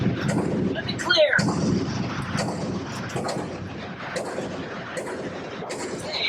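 Pistol shots from a Walther PPK and a Stoeger Luger at an outdoor shooting range, heard as several loud, booming reports spaced a second or so apart with a rumbling tail.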